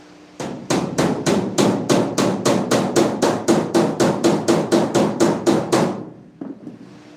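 Rivets being hammered on a 7.5 gauge railroad car ring out in a rapid, steady series of about twenty loud, sharp metallic strikes, close up and with no voices, ending abruptly.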